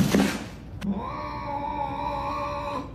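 A cat lets out a drawn-out, wavering meow close by, a long tonal caterwaul following a brief noisy burst at the start.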